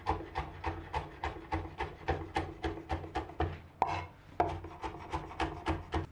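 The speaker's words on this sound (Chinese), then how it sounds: "准备几颗大蒜，先用刀压扁，再全部切成蒜末。" A kitchen knife minces crushed garlic cloves on a cutting board with rapid, steady chopping strokes, close and distinct, broken by one brief pause before the rhythm resumes.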